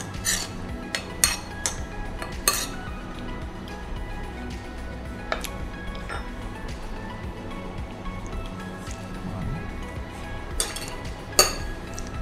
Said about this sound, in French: On essaie de mélanger sans trop casser le riz.